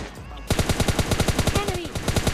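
Rapid automatic gunfire in PUBG Mobile Lite, a steady loud burst of evenly spaced shots starting abruptly and running continuously.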